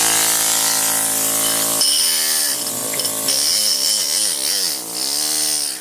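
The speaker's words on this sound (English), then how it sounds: "It's an air hammer." A loud, continuous compressor-driven air hammer carves stone close up, its rattle wavering and pulsing in pitch as it works, with no voices.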